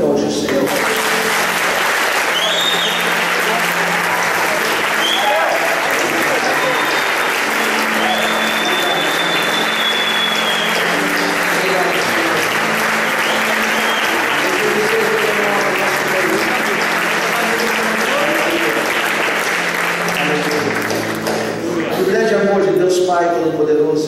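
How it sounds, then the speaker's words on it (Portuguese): A church congregation applauds during a celebration service in a sustained, dense wash of clapping that carries on at full strength, with voices rising over it and the sound thinning near the end. "Você pode aplaudir o Senhor."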